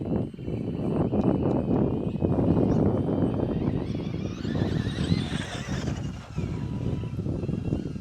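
A Team Associated RC8T4e electric RC truggy running on a dirt track, its motor whining over a continuous rumble of tires and gravel, with a rising high-pitched whir midway as it speeds through a turn.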